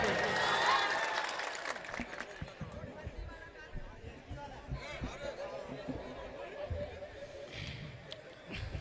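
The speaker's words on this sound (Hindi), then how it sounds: "जोरदार तालियां बजा के मुझे इजाजत दे।" An audience at an All India Mushaira in Shahganj bursts into applause that is strongest at the start and then thins into scattered claps and crowd murmur, with talk over it.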